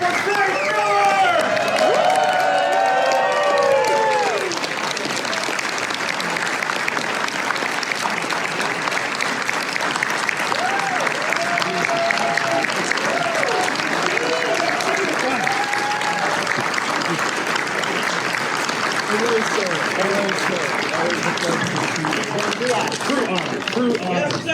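A large panel audience applauds and cheers loudly and continuously, with whoops over the steady clapping, while a host's voice is heard talking over the crowd.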